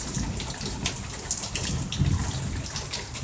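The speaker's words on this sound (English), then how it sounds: "It's raining, lots of rain, lots of lightning, big giant storm coming through." Heavy rain pours during a big thunderstorm in Central Florida, a close, continuous splashing patter with irregular drips and gushes, no thunder or voices standing out.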